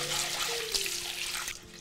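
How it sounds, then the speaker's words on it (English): Cold tap water runs into a cooking vessel in a sink to rinse dal lentils, a continuous close splashing gush with a faint tonal ring, heard alone without talking. "You need to kind of wash it in the sink."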